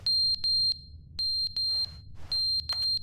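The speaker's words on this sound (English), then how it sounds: "Fire alarm's out." Fire alarm in Stanley Parable: Ultra Deluxe, a loud piercing electronic tone sounding in repeated bursts of several short beeps with brief gaps, with faint hissy noise between the bursts and no talking.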